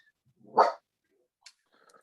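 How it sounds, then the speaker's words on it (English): An Australian cattle dog gives a single sharp bark, fairly close, followed by faint small noises in an otherwise quiet room. "she's an Australian cattle dog"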